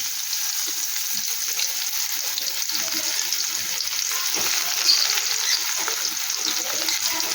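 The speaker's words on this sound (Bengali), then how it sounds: "একটু পেঁয়াজ কুচি দিয়ে দিলাম" Chopped onion fries in a kadai of hot oil with black cumin and a dried red chilli. A loud, steady sizzle fills the whole stretch, with faint stirring scrapes and no talk.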